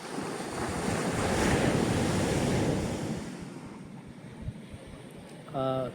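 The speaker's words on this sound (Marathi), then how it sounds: "विस्तीर्ण असा समुद्र" Surf rolls onto Khavane beach near Vengurla, a steady broad wash of sea waves with wind rumbling against the microphone, swelling loudest early then easing, with a brief tonal sound near the end.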